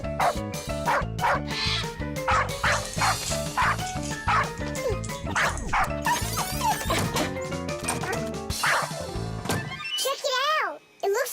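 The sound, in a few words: cartoon parrot imitating a dog barking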